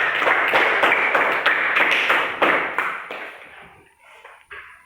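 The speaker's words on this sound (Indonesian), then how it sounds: "Kita memberikan aplaus kepada kelompok 2." Elementary classroom applause for a student group, steady dense clapping from many children for about three seconds, then thinning out into scattered claps and faint room noise.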